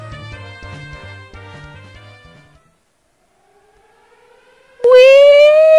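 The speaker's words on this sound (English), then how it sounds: "Oh, sirens." A rising siren wail in the video game Pokemon Uranium swells in loudly near the end after a stretch of tonal game music and a quiet pause.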